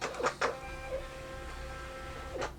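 A Betckey 4x6 thermal label printer running a test label: short mechanical whirs and clicks at the start and end around a soft steady motor hum, close and fairly quiet.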